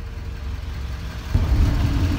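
Continuous engine rumble from inside a moving vehicle, growing louder and deeper partway through, with a broad road and tire hiss underneath.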